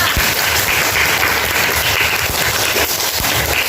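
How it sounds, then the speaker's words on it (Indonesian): Schoolchildren clapping together in a classroom, a loud, continuous patter of many small hands that fills the whole short moment without any talk over it. "Tepuk tangan untuk Kaila."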